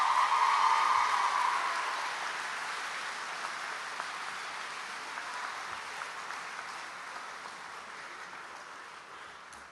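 Audience applause at a graduation convocation, a broad wash of clapping that starts loud and gradually fades over about ten seconds, with no talking over it.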